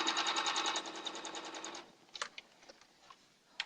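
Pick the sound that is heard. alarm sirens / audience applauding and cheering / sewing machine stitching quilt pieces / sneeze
sewing machine stitching quilt pieces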